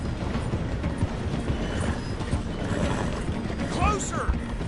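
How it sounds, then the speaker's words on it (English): A train in Red Dead Redemption II rolls along the rails, slowing through a station, with a steady rumbling, clattering wheel noise close by and a brief squeal of metal near the end. "The train is slowing down to go through the station"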